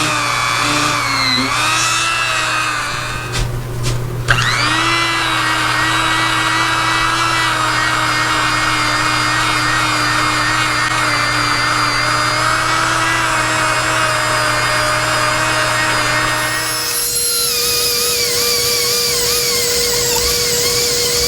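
An old cordless Craftsman power tool grinding on an 18-inch Ridgid pipe wrench during a restoration, a loud, steady high-pitched whine with a brief dip early on and a shift in tone near the end.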